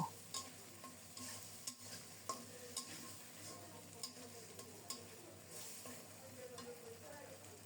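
Spices frying in oil for a rohu fish and cauliflower curry, a steady soft sizzle with repeated light stirring scrapes of a spoon against the pan, close and fairly quiet, with no talk.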